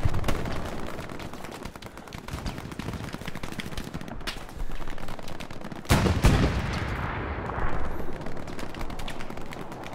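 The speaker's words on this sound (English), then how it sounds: "That fucking grease gun suppression." A grease gun lays down suppressive fire in the WWII shooter Hell Let Loose. Fast automatic bursts rattle steadily, a heavy blast lands close by, and the shooting continues after it.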